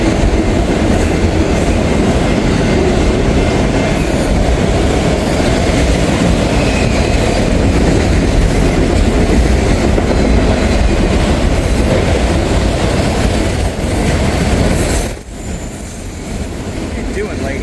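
A Norfolk Southern train roaring steadily through a level crossing, loud and close with rumbling wheels and clatter, easing slightly near the end.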